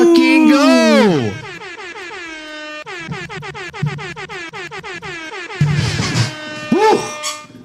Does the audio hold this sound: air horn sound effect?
yes